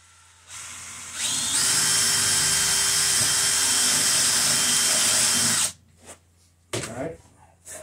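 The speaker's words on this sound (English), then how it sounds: "I'm just going to finish drilling the hole" A power drill whines at a steady high pitch for several seconds, loud and close, then stops, followed by brief clattering.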